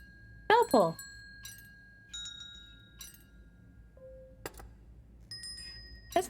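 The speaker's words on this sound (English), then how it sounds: "There's another bell pull." A bell pull in the puzzle game The Room 4 rings out with bright metallic dings and a short clinking flourish, followed by sparse sustained chimes; a voice speaks over the start.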